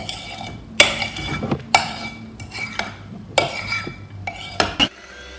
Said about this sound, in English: Stop and scrape down the sides of your bowl.